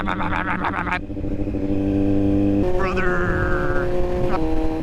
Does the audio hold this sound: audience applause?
no